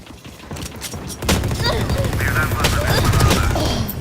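Gunfire rattles in a VALORANT match, a burst of rapid shots followed by sustained crackling fire at close range, with a player's voice talking over parts of it.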